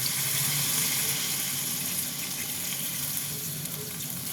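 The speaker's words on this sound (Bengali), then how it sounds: "দেখুন এবার আমি জল দেব।" Water poured into a simmering chicken and bottle gourd curry, a steady hissing sizzle with splashing that stays even and moderately quiet throughout, no talking.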